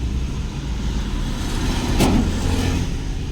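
A learner driver presses the accelerator in a car during a driving lesson, giving a steady, close engine drone with a brief swell in the middle, no talking.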